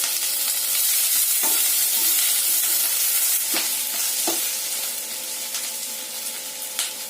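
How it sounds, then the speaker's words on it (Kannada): Curry leaves and green chillies fry in hot oil for a mushroom paneer curry, a loud, bright continuous sizzle that eases off slightly toward the end, punctuated by several crisp spoon scrapes against the pan. "ಆಮೇಲೆ ಇದು ಗ್ರೀನ್ ಚಿಲ್ಲಿ ಹಾಕಿ ಫ್ರೈ ಮಾಡೋಣ."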